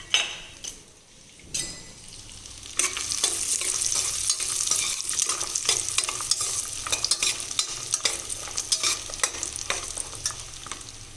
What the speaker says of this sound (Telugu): ఇప్పుడు జీడిపప్పు వేసుకుందాం. జీడిపప్పు వేసానండి.